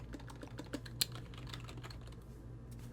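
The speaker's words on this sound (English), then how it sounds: "Let's just type it in." Quiet typing on a computer keyboard, a string of soft, irregular key clicks with one sharper tap, close and alone without talk.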